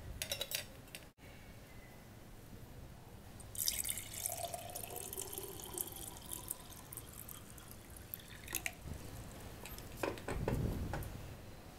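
Boiling water is poured in for a tea used to water orchids, making a continuous splashing, trickling stream. Brief dripping and bursts of louder pouring come through, with a soft clatter near the end.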